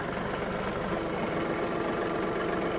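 A John Deere 3039R compact tractor's engine runs loud and steady, and a higher hydraulic whine joins about a third of the way in as it raises a Rhino 10-foot flex wing mower; no talking.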